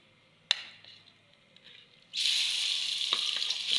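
A sharp clink, then a sudden loud sizzle as a spice tempering hits hot oil in a pan, hissing steadily and close up.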